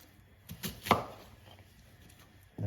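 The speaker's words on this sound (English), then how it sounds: "I'm gonna make 3 cuts like that" A knife chops an onion into chunky pieces on a cutting board, with about three sharp cuts in quick succession followed by quiet.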